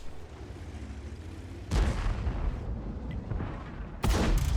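Tank cannon fire in World of Tanks, with a Lorraine 40t fighting on the Kharkov map: two heavy, booming shots about two seconds apart over a constant low engine rumble.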